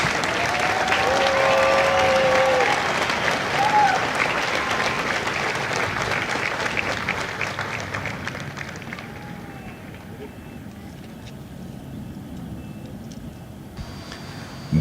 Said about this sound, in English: please join me in a round of applause for the company staff of Company E